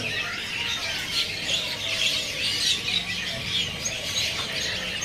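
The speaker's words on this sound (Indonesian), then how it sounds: "Oh, ada juga burung pelatuk ya." A red-winged woodpecker calls among other caged birds at a bird market, giving a steady wash of bright chirps and squawks at moderate distance with no talk.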